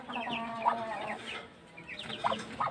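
Young ducks call in a few quick, bright bursts, close by and fairly faint, with a short pause between calls.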